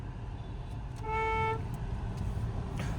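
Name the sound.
car horn honking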